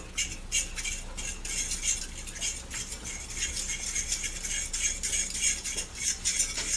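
A spoon scraping and clinking around a pot of bacon pasta sauce with milk, soft uneven stirring strokes repeating close by under a faint hiss.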